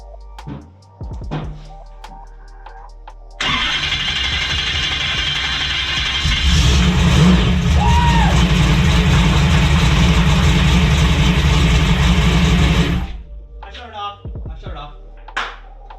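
An engine firing up for the first time after a rebuild, catching with a sudden roar and settling into a loud, steady idle for about ten seconds before shutting off, with brief clanks before and after.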